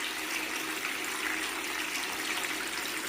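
Steady, dense rush of water pouring through a modified gold cube sluice, continuous and fairly close with no breaks or voices.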